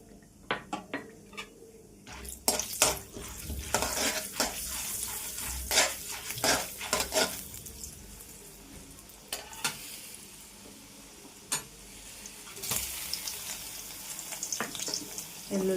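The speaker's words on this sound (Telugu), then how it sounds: "మెంతులు, ఆవాలు, ఎల్లుల్లిపాయ, పచ్చెనగపప్పు, జీలకర్ర, ఎండుమిర్చి, కరివేపాకు. ఇవన్నీ ఇప్పుడు మనం తాలింపులో వేసుకోవాలి" Mustard seeds, fenugreek, garlic, chana dal, cumin, dried red chillies and curry leaves sizzle in hot oil for a tempering, with quiet frying under repeated sharp clinks and scrapes of a ladle stirring in the pan.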